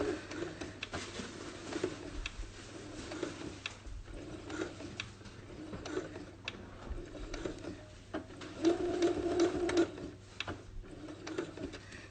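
Sewing machine stitching back and forth over elastic while making a fabric face mask, a soft mechanical whir with a brief louder burst of rapid stitching near the end.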